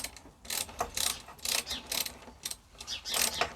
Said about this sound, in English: with our Torx 40, we will just nip that up into place.